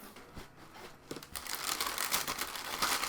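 Paper rustles and crinkles as a box of orange Nike sneakers, size 10.5, is opened, starting with a few soft touches and then becoming steady, busy crackling that grows louder close to the listener.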